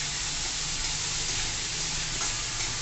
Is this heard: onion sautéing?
yes